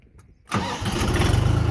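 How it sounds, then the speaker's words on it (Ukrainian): A DongFeng 244DG mini tractor engine cranks and catches after about half a second of near silence, then settles into a loud, steady diesel idle with a faint rhythmic chug, with no talk over it. "Заводиться з пів оберту, просто з пів оберту."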